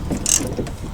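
A ratchet works a 10 mm bolt on the driver door of a Ford F-150 to F-350 truck, a short burst of close metallic clicks with one sharp tick in the middle.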